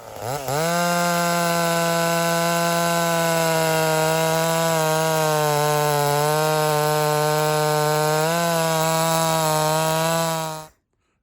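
A ported chainsaw with a dull chain runs at full throttle through wood as a steady, loud, high-pitched buzzing whine that holds for about ten seconds before cutting off abruptly, with no talking.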